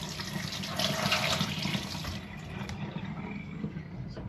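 A tap runs into a sink in a glamping pod, a steady close rush of water that eases off halfway through, with no voices.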